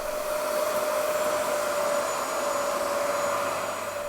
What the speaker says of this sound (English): keep adding water and making passes until nothing but clear liquid is coming through the vacuum